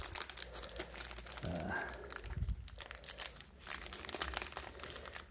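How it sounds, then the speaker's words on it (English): Plastic bag crinkles and rustles as small Bandai Pokémon figures are pulled out of it, the soft crackling coming in close bursts under occasional quiet talking. "So we will liberate them all from the plastic bag."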